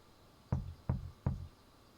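Three evenly spaced, solid knocks on a door sound in the detective video game Unheard: Faceless Crimes, heavy and close against a quiet background.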